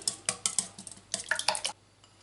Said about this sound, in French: On vient fouetter ceci.